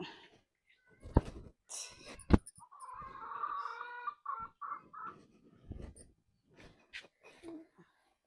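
Backyard chickens cluck and call in short, close bursts, mixed with brief voices, rustles and handling noises throughout.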